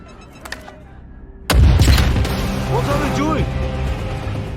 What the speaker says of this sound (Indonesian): Nazir kemudian meledakkan sebuah mobil untuk menghalangi para agen Iran.